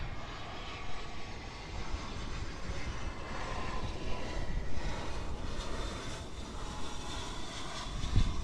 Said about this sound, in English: here is that Avianca flight 690 from San Jose